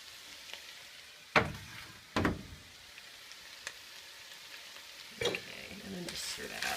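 Sliced mushrooms going into a pan of extra virgin olive oil for a creamy chicken and mushroom soup, a faint sizzle broken by several sharp clattering stirs and bursts of spattering.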